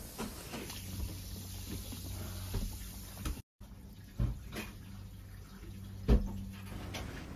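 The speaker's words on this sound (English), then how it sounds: "So I'm gonna give everything a good wash" Fresh limes and other fruit being washed in water, soft running and splashing with a few louder sloshes and brief clunks, fairly faint and with no voices.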